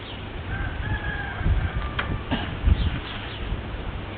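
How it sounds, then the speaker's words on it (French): A rooster crows at a distance, faint and drawn out, over low rumbling background noise and occasional bird chirps. "Tout ça fait très calme, les petits oiseaux,"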